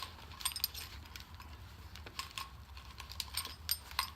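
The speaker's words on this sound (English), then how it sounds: "I have some more work keys on the carabiner" A bunch of work keys on a carabiner jangle and clink with small metallic chinks, close and fairly quiet, in short irregular bursts over a low background hum.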